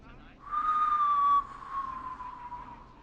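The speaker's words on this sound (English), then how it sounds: "Unconvincing whistling." A prank caller in the radio-station horror game Killer Frequency whistles over the phone: a single sustained, wavering tone that slides gently downward and fades, clear and fairly loud over a quiet line.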